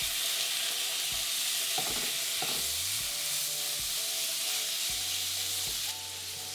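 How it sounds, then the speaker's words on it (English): Meat fries in oil in a pan for kimbap, giving a bright, steady sizzle with crackles and occasional stirring clinks, close and continuous with no voices. "We're gonna cook the meat. Add a little more oil"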